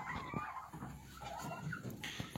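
A bronze-breed rooster gives a few faint, short clucking calls from a middle distance, with quiet farmyard background noise.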